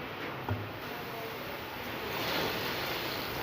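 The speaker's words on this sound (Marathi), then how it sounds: "हे बघा, आता आपण ह्याच्यात एक एक पान सोडूया." Leaves for bhaji sizzle in very hot oil, a dense, even hiss with faint crackle that swells slightly toward the end, with no talk over it.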